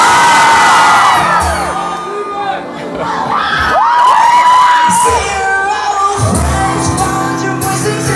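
A rock concert crowd cheers, whoops and screams loudly and continuously, a dense roar of many voices with shrill yells on top.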